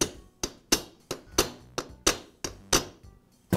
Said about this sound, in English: I'll carefully tap the key into place.